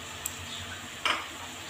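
A spoon stirs chili powder, cumin, ginger and tomato into a sizzling pan of banana flower and prawn curry, giving a couple of quick scrapes over a faint steady sizzle.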